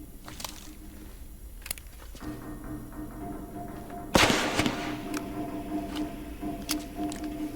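A single loud gunshot cracks midway through a dark corridor scene in a video game, preceded by a few sharp clicks and followed by lingering rumble and scattered small impacts.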